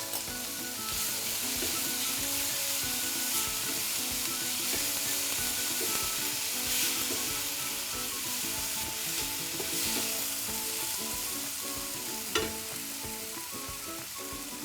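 Tomatoes, whole red chilies and spices sizzle and fry steadily in a pan for chutney, a continuous crackling hiss with occasional stirring, close and even throughout.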